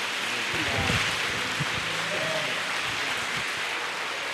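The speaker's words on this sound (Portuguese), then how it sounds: "Aplauda mais uma vez ao Senhor" A church congregation applauds the Lord in a steady, fairly loud wash of clapping that fills the room, with no distinct voices over it.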